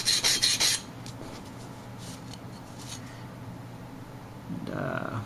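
A knife honed on a wet sharpening stone, a few quick rasping strokes at the start, then a quiet pause before another soft scraping pass near the end, close up.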